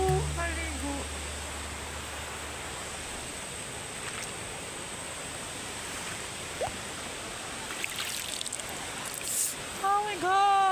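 Kipot Falls waterfall at Tagum, a steady broadband rush of falling water filling the whole stretch, with voices and a few brief shouts breaking in near the start and end.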